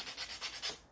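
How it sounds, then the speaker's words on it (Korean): Sandpaper rubbing along a wooden toy car's surfaces and edges, six or seven quick back-and-forth strokes in a steady rhythm, close and clear with no talking. "사포질을 여러분들 꼼꼼히 잘 해주시고요"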